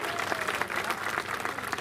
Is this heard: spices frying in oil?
no